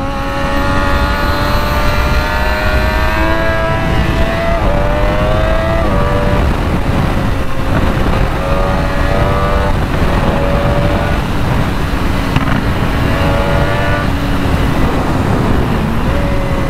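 Triumph Daytona 675 motorcycle engine running steadily at low revs while riding, with a continuous loud drone and gentle pitch rises and dips as the throttle shifts, wind rush underneath, no talking.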